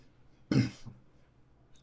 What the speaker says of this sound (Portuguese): esse pigarro tá me matando.